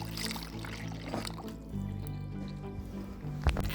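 Water poured into the tank of an Uthfy 41-inch air cooler, a faint gurgling trickle under a steady low drone, with a small knock near the end.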